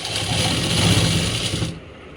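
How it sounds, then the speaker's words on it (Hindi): A sewing machine runs steadily while stitching a salwar, its even motor whir and needle chatter loud and close for about two seconds before stopping abruptly. "ये सिलाई और लगा लो मोटा बखिया करके"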